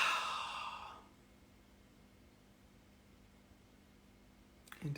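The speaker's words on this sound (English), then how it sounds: "Breathe in and breathe out." A slow, audible exhale, like a long sigh, fades out within a second, followed by near silence and a brief, sharp intake of breath at the very end.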